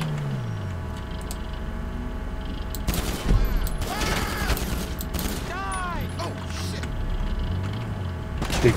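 Gunfire during a snowy gang attack in GTA 5 Online, with bursts of shots and mechanical clatter over a low game soundtrack, and someone talking briefly partway through.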